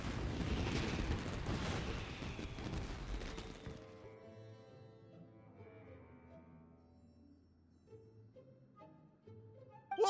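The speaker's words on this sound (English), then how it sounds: "Yoimiya, this is turning into a bit of a fireworks display." Fireworks bursting in Genshin Impact during an Inazuma story quest with Yoimiya: a loud, dense barrage of booming explosions for about four seconds, then quieter lingering crackles and tones, with a sharp pop at the very end.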